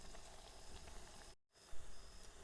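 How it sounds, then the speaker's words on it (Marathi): Bhaji fritters fry in oil in a village kitchen with a continuous soft hiss and sizzle. The sound cuts out briefly midway, then resumes with a small bump. "मस्तपैकी भजे तळायचं काम चालू आहे"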